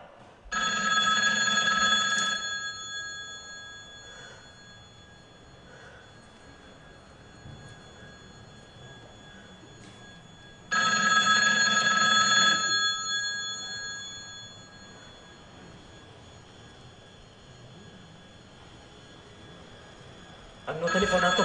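A telephone rings as a stage sound effect at a spoken-word festival performance, a bright electric bell sounding in three bursts about two seconds long, separated by long quiet stretches with a faint room hum.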